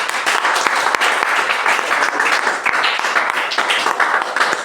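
Church congregation applauding steadily and loudly for several seconds, a dense, continuous wash of many hands clapping with no talk over it.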